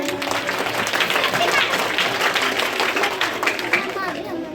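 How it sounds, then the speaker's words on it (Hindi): Applause at a primary school annual function as a student is called up, a steady mass of clapping from a crowd of children and adults mixed with chatter and young voices, sustained and fairly loud throughout. "अनीस के लिए जोरदार तालियां हो जाए"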